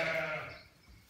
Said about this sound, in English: Ewes and lambs everywhere.